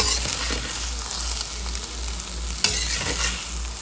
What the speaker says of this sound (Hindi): मिक्स कर देंगे